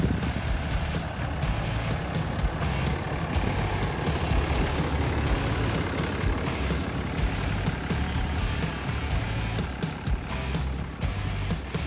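A truck idles and rumbles steadily at a job site while being loaded to haul a skid steer, a continuous low engine drone with faint clanks and no clear talk.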